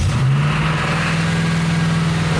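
A C4 Corvette engine runs loud and close with a steady, rumbling idle and a slight rise in revs, continuous and alone without talk.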